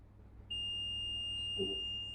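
A quiet room gives way to a steady, high-pitched electronic continuity beep from a multimeter testing a MacBook Air A1466 logic board, starting abruptly and holding unbroken until the end.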